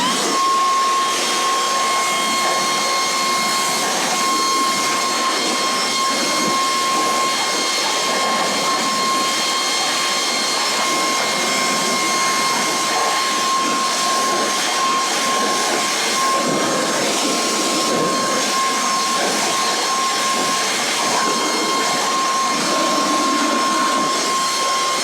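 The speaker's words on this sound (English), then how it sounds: "We're going to go ahead and blow out that area." Compressed air or a blower rushing steadily into the electronics compartment of a Mean Green electric mower, a loud constant roaring hiss with a high whine, close by and with no speech.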